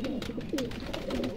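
A pigeon coos softly in close, low throaty warbles repeating several times during a bath, with faint splashing underneath.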